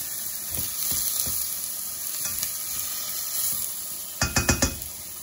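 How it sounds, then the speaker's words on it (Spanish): Garlic and carrot fry in a pan, making a continuous close sizzle with soft stirring scrapes. A quick burst of four louder knocks or clatters comes near the end, with no talking. "Le acabo de añadir el ajito, la zanahoria y que siga sofriendo un poquito."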